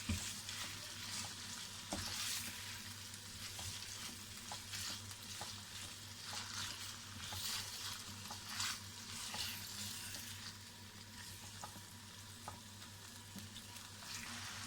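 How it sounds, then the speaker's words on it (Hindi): Chicken pieces frying in a pan over a low flame, a steady soft sizzle with a spatula stirring and tapping now and then, close and alone without speech. "इसको हम लो फ्लेम पे इसके साथ फ्राई करेंगे ताकि ये फ्राई भी हो जाए और ये सॉफ्ट भी हो जाए हमारा चिकन"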